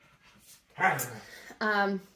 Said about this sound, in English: You can hear my dogs playing.